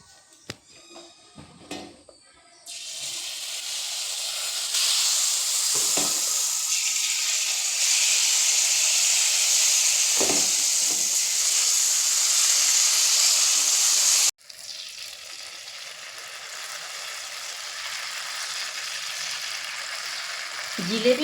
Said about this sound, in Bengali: একই পদ্ধতিতে বাকি জিলিপিগুলো ভেজে নেব।